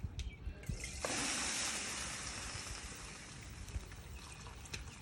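Water is poured into a container set over the fire of a smoker for BBQ spare ribs, a soft splashing trickle that rises briefly and then fades into a quiet dribble.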